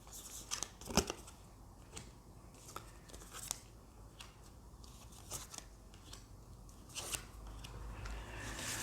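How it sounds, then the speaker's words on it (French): Tarot cards being shuffled and handled at a reading, a soft papery riffling with brief crisp snaps and flutters, close and fairly quiet, with no talking. "je vais prendre encore quelques cartes."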